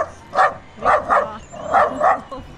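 A dog at a dinosaur park barks at the dinosaur models: about six sharp barks in two quick groups, close and loud, with no talk over them.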